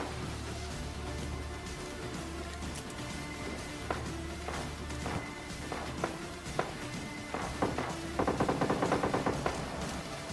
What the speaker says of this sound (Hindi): यहाँ पे मुझे कुछ गन साउंड्स आती हैं